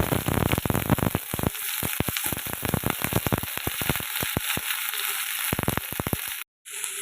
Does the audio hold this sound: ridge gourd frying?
yes